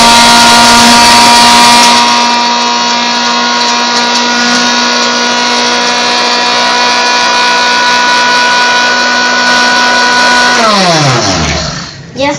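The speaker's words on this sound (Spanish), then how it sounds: "Ya podemos empezar a licuar." A kitchen blender grinds coconut cookies into powder, a loud steady motor whine with strong tonal harmonics that holds for about ten seconds, then winds down in a falling pitch sweep as the motor stops near the end.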